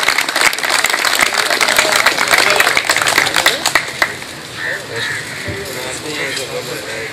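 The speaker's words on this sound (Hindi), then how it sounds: "भरपूर तालियों में इनका इस्तकबाल कीजिएगा" An audience applauds to welcome Chaudhry Mukhtar Gujjar at a gathering, with loud dense clapping for about four seconds that then fades under a murmur of voices and room noise.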